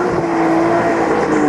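A Hartge-tuned BMW E46 with a 5.5-litre V8 drives under load, its engine holding a loud, steady, even drone close by through the whole short burst.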